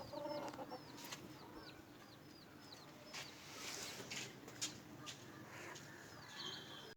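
Hens in a farmyard pen give soft, scattered clucks and short calls, fairly quiet and close, with brief rustling and gaps of near silence between them.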